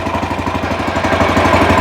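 Walk-behind tractor (motoblock) engine running close by, a loud, steady rapid chugging throb with no pauses and no voices over it.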